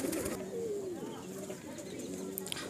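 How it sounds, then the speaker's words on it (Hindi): A baby pigeon makes soft, low cooing and squeaky calls close by, over a constant background hum. "ये बेबी पिजन छोटा बेबी पिजन है"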